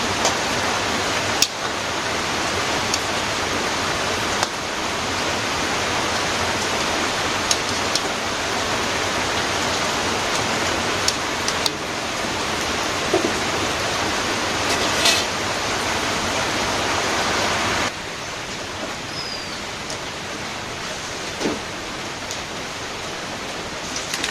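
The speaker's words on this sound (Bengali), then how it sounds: "বৃষ্টি এখনো হচ্ছে একইভাবে" In a Bangladeshi village, steady rain produces a dense, unbroken hiss that holds constant for over twenty seconds and then drops slightly in level near the end, with no voices over it.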